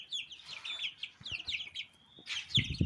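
Small birds and young chicken chicks chirping and peeping in quick, high bursts, fairly close, with a few short low clucking sounds near the end.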